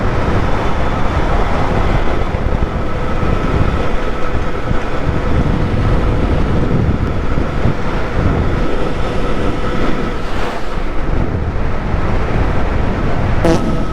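An electric bobber motorcycle ridden at full throttle, giving a steady, loud rush of wind and road roar with a thin motor whine running throughout, no voices.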